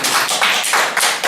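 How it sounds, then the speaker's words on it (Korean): A brief burst of audience applause at a gathering, loud and close, made of dense clapping in rhythmic surges. "박수 한번 보내드리시죠"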